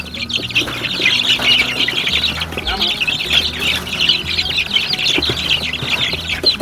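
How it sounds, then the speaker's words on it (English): Two-week-old baby chickens cluck and peep in a busy, continuous chorus close by, with scratchy rustling and some background noise underneath. "This chicken's only like 2 weeks old."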